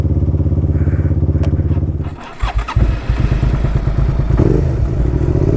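Motorcycle engine idling with a steady rapid thrum, then stalling and being cranked back to life with thumps and clatter, ending in a loud, close, uneven running engine.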